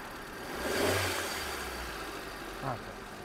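Car engine revved with the radiator cap and dipstick opened for inspection; a short swelling rev rises and falls under nearby talking, followed by a brief second blip.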